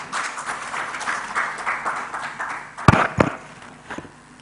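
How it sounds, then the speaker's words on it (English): An audience at a digital government summit applauds in a steady, moderately distant patter that fades toward the end, with a couple of sharp knocks near the microphone partway through. "A round of applause, please."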